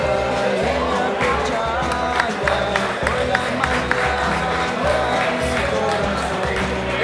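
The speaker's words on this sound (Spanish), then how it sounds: "Fuerte los aplausos para los vicecampeones." Crowd applause and cheering greet the runners-up of a catch-and-release corvina fishing tournament held in Pilar, Paraguay, a steady outdoor ovation with voices talking over it throughout.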